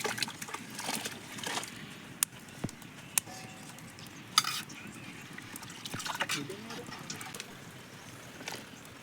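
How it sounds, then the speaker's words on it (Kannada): Water bubbles and splashes as chicken feet go into a boiling pot, with scattered clicks and knocks and faint background voices. "ಚೆನ್ನಾಗಿ ಕುದಿಯುವ ನೀರಿನಲ್ಲಿ ಕಾಲುಗಳನ್ನು ಬಿಡಬೇಕು"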